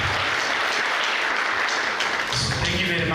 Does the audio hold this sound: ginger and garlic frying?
no